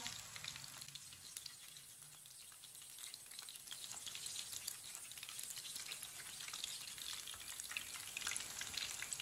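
Kebabs fry in a pan over a medium-low flame, giving a steady, faint sizzle with soft crackles and occasional stirring scrapes throughout.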